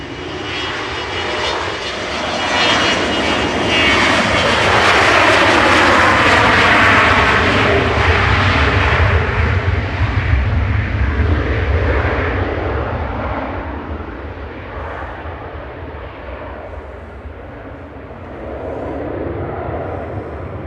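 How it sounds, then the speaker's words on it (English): A VistaJet Bombardier Global 6000 business jet departs Manchester Airport bound for Malaga, its loud engine roar swelling to a peak and then fading into a lower, more distant rumble, with no voices. "VistaJet's heading to Malaga now. This is the Bombardier Global 6000"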